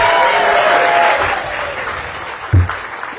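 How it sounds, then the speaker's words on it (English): An audience at a hospital topping-out ceremony claps and cheers for Taryn, loud at first and then tapering off, with a sharp thump near the end. "Give Taryn a big round of applause."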